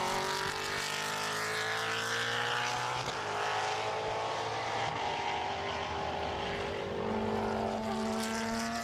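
Single-seater race cars lapping the circuit at Brands Hatch, engines droning in a steady continuous roar with shifting pitch as cars pass, loud and sustained without talk.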